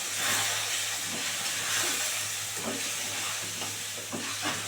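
Spice masala with a splash of water is stir-fried in a pan while cooking fish head with cabbage: a soft, steady hiss and bubbling, with occasional stirring scrapes over a low hum.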